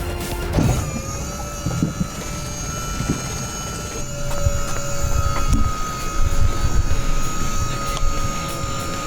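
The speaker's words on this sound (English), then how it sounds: "It's going to automatically bring the boat up onto the trailer" A steady mechanical whine with sustained tones hums over a rumbling engine and knocks, as an automatic loader draws a Haines Hunter SP725 boat up onto a trailer.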